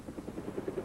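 Helicopter ferrying troops to Panmunjom during the Korean War armistice period, a faint, rhythmic rotor thump pulsing steadily through a short moment without speech.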